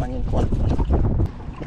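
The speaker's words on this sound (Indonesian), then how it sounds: "Habis angin kuat pak" Strong wind buffets the microphone outdoors on a fishing trip by boat, a steady low rumble with gusts throughout, with voices speaking over it.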